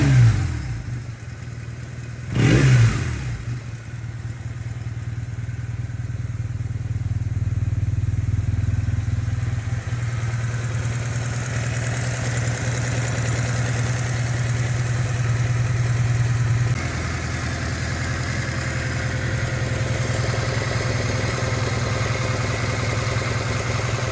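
A BMW R1100S motorcycle engine runs close by after a valve adjustment: a short blip near the start, then a steady, even idle that holds for over twenty seconds with no talking.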